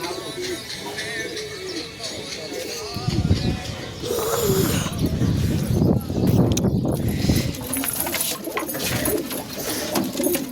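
Pigeons coo and flutter close by in a loft, with soft repeated low cooing calls and rustling, plus some background clatter and noise.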